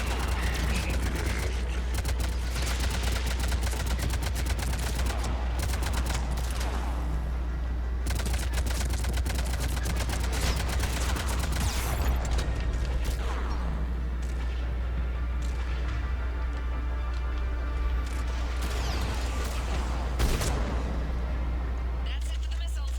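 Missile blasts and rapid gunfire from a gunship in the video game Mass Effect 3, dense and continuous over steady low engine drone, with voices talking over the combat.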